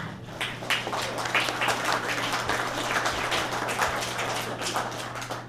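Conference audience applauding Brother Kademi's presentation at an African Caribbean cultural festival opening: sustained, even clapping from a room full of people with a steady low hum underneath, continuing alone for several seconds.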